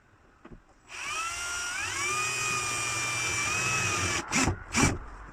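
A power drill drives screws into a reclaimed bowling-alley wood kitchen worktop in a Renault Master van conversion, giving one sustained high whine for about three seconds, followed by two short sharp bursts.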